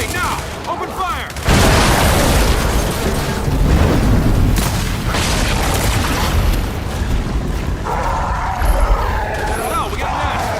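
Loud, sustained gunfire and booming explosions from an Xbox Series X game battle, dense and continuous with heavy low rumbles after a quiet start and shouting voices mixed in.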